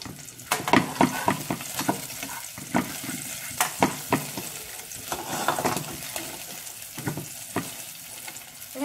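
Steady sizzling of beef frying in a hot pan for bolognese sauce, with repeated scraping and stirring clatters throughout, close up and fairly loud.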